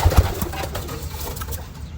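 Pigeons cooing inside a coop, with a few low, soft coos bunched near the start over a faint background of birds stirring.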